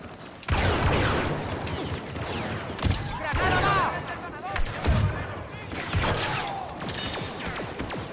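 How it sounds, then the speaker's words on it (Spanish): Repeated video game gunfire in bursts, with sharp shots and rumbling impacts over game sounds, while voices talk throughout. "Eso de 20 tiros para uno no me gusta nada."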